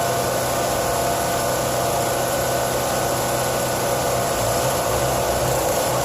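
A 15,000 BTU air conditioner compressor runs on a propane-powered generator, giving a steady, loud mechanical hum and broadband whir that continues evenly throughout with no pauses.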